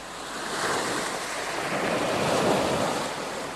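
Waves of the Aegean Sea wash and break in a soft, continuous surf that swells and fades gently, mixed with breezy wind noise, moderately quiet and with no voices.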